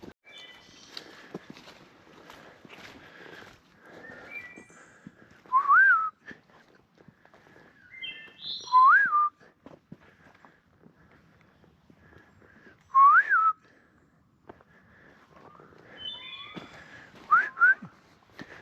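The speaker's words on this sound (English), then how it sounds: "Can't whistle to save my life today." A person whistling while walking along a swampy hiking trail, giving several short rising tune phrases spaced apart with faint footsteps and rustling between them, fairly close and clear.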